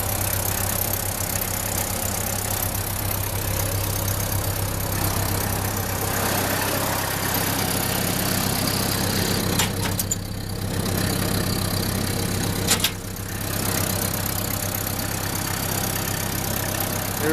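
A vintage 1945 refrigeration reefer cooler's engine runs steadily at idle with a constant low hum and mechanical clatter, loud and close throughout, with two brief dips and a sharp knock near the end.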